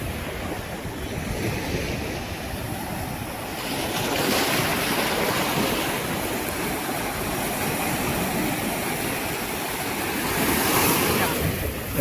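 Sea waves surge and wash continuously over rocks nearby on the shore at Kunkeshwar temple, a broad hissing roar that swells and recedes, strongest in a couple of heavier rushes.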